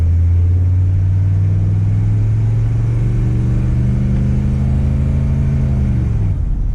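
A diesel OBS-generation Ford pickup truck pulls away in first gear, its engine rumble loud and close, a low droning tone that rises steadily in pitch as it accelerates, then eases off near the end.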